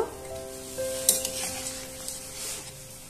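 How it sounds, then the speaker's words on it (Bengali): Fried soybean pakoras dropped into a simmering gravy for soybean kofta curry, giving a steady soft sizzle with a sharper splash and clink near the start, close by and without talk. "এবার এই ভেজে রাখা পকোড়াগুলো আমি দিয়ে দিচ্ছি, দিয়ে 10 থেকে 7 মিনিট আমি ফুটিয়ে নেব।"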